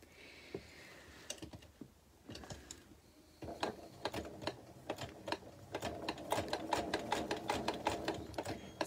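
Home sewing machine basting fabric at a long stitch length: bursts of fast, rhythmic mechanical ticking and whirring, starting and stopping, quiet and close, without speech.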